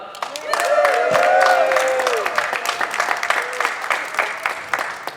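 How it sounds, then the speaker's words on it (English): Applause from an outdoor climate rally crowd with loud cheering and voices over it, sustained throughout, with scattered sharp claps standing out as it tapers. "Let's give a round of applause for Doug."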